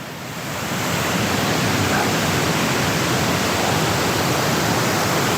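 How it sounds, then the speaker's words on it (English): Waterfall on Vancouver Island roars as a loud, steady broadband wash of falling water and spray, close by and continuous with no voices. "That's such a cool waterfall though."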